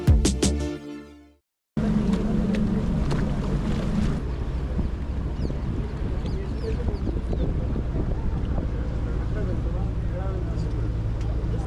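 A steady engine drone and water wash from a tourist boat crossing Lake Pichola toward Jag Mandir in Udaipur, continuous and close, with people talking over it.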